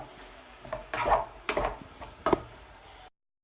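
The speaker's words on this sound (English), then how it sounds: "I've just chopped the mushrooms in half and straight directly into the pan where everything else is cooking" Halved mushrooms dropped into a hot pan of cooking carbonara, with several distinct clattering knocks and light sizzling as they land and are moved about, fairly close.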